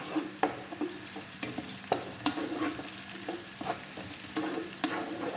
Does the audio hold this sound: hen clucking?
no